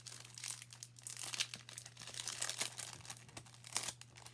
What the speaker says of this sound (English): I am going to put some double-sided tape down.